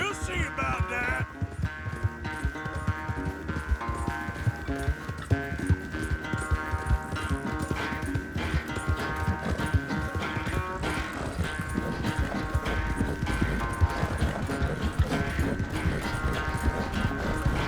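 Horses gallop in Red Dead Redemption 2, a fast, steady clip-clop of hoofbeats running throughout under a continuous backing of music.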